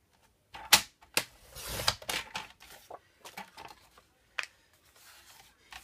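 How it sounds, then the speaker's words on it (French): Paper is sliced on a paper trimmer in a few sharp scraping strokes with short clicks between them, close and fairly loud. The paper cuts poorly. "Ce papier se coupe définitivement assez mal avec ce massicot"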